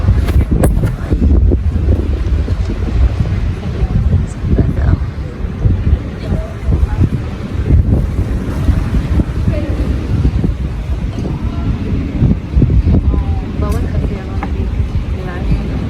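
Wind buffets the microphone on an open-top boat in Barcelona, a constant loud, low roaring gust that never lets up.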